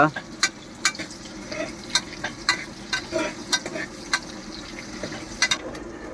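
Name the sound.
roasting onion, chilli and garlic in a pan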